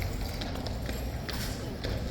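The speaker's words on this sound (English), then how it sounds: "Look at this beautiful horse here." Horse hooves clip-clop on pavement as a trooper's mount walks past, several light, fairly regular knocks heard at middle distance beneath crowd noise and steady outdoor hubbub.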